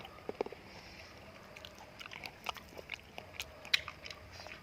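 Crunchy candied jujube is bitten and chewed close up, a series of faint sharp crisp crunches at irregular intervals over a quiet background, with no talk.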